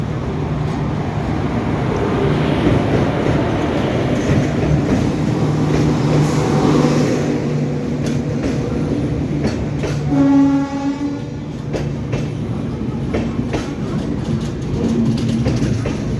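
A passenger train runs from Ukshi to Mumbai with a loud, steady rumble and wheel clatter throughout. A horn sounds partway through over the constant rolling noise.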